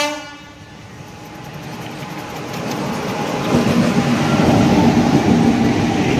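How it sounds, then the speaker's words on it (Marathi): A freight train rolls through a railway crossing, its heavy rumble and clatter swelling steadily louder as it nears and passes close by, with a sustained horn tone riding over the noise. "हे मालगाडी आहे."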